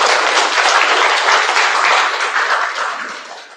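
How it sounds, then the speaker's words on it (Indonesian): An audience at an Indonesian religious lecture claps loudly in dense, sustained applause that holds for a few seconds and then tapers off toward the end. "Tepuk tangan Bapak Ibu."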